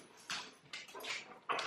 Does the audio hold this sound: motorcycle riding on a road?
no